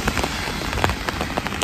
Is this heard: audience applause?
no